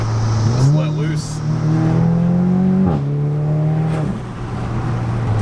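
An Audi S3 fitted with an AWE SwitchPath valved exhaust revs up loudly and close by, its engine note climbing and falling twice with a steady droning rumble between.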